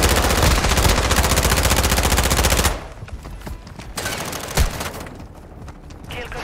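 Rapid sustained automatic fire in a military video game, a dense loud burst for over two seconds, then scattered shots, a booming hit and background combat noise.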